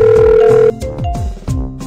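In a Baby Bus children's game, a telephone rings after a number is dialed: a loud sustained electronic tone, then short bursts of ringing with gaps between.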